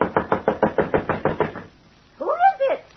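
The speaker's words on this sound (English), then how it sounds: "You knock like the very devils behind you." Knocking on a fortune teller's wooden door: about ten quick, evenly spaced raps in a steady run, close and distinct, followed by a brief pause and then a voice speaking.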